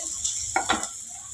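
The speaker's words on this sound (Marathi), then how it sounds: "अर्धा चमचा गरम मसाला मसाले देखील आपण तेलामध्ये भाजून घेऊया थोडेसे" Turmeric and garam masala frying in hot oil for masala bread, giving a faint steady sizzle with two short scraping stirs near the middle.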